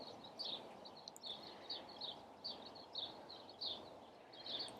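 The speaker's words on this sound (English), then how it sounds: "I'm sorry if you hear the birds." Small birds chirp outdoors in short, bright repeated calls scattered through the clip, fairly faint over a soft background hiss with no talking.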